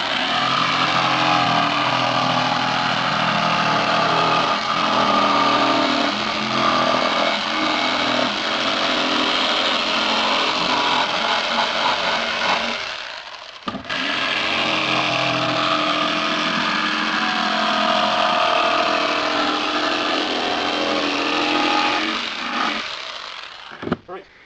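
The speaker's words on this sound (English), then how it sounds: "This is a bit of an aggressive jigsaw, but it should work all the same." An aggressive jigsaw cuts out a wooden longboard blank, producing a loud, continuous buzzing roar that stops briefly midway and then resumes for a second long pass.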